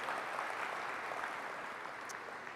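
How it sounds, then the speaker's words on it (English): Keynote audience applause at a Canonical tech conference, a faint, steady wash of distant clapping that holds evenly and tapers slightly toward the end. "So give him a huge round of applause, please."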